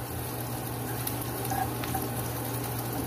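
Garlic and onion fry in a pan with a faint, steady hiss and a low hum underneath, and no voices.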